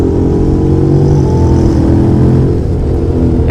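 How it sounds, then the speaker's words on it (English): A Honda NC750X motorcycle accelerates hard along a race track straight, its engine a loud, continuous droning roar with a slowly rising pitch, heard close up with wind noise and no speech. "Let's try a little bit to see how fast it will accelerate on the straight line."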